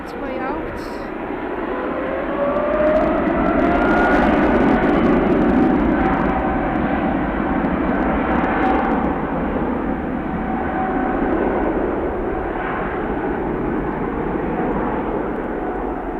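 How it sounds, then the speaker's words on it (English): Qatar Airways airliner departing Manchester Airport, a loud continuous jet engine roar with shifting whine that swells and holds steady over sixteen seconds, with a voice talking over it. "And so the Qatar on its way out."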